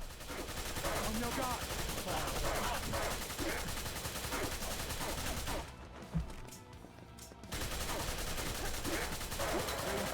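Steady rapid gunfire from the action game Wanted: Dead, a dense continuous rattle of shots with a short quieter gap midway, under game sound and faint voices.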